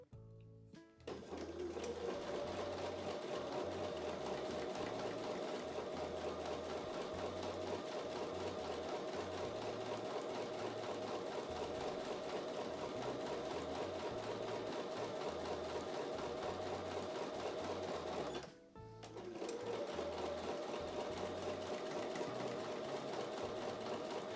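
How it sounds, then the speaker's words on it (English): A sewing machine stitches a quarter-inch seam along a drawn line on a quilt block, running steadily and loudly at close range for about eighteen seconds, pausing briefly, then resuming its fast, even stitching. "I'm going to take that over to the sewing machine and I'm going to sew a 1/4 inch seam on both sides of the drawn line."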